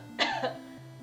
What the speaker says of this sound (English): The best way to know how you're engaging your diaphragm is to pretend to cough.